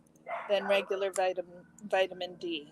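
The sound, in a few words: dog barking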